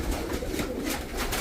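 Loft pigeons with eggs and young chicks give a brief burst of soft overlapping cooing, close and continuous.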